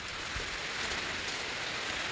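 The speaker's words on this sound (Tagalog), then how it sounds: "Ayan, umuulan." Rain falls steadily on a 2017 Toyota Innova, heard from inside the car as an even, dense hiss with faint patter and no break or voices.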